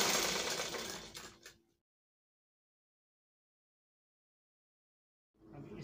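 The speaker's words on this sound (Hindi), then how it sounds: "उसके बाद कच्चा सिलाई मार देंगे।" A sewing machine runs a basting stitch on a kameez in a short burst of quiet whirring that stops abruptly, followed by several seconds of silence and a faint restart at the end.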